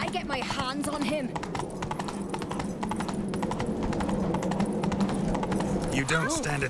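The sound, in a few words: horse galloping in video game The Witcher 3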